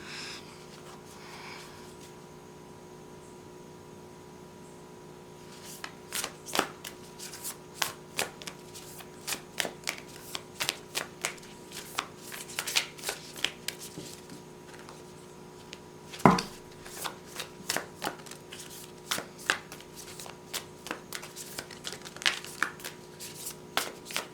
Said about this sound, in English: bear with me for a minute or two so that I can shuffle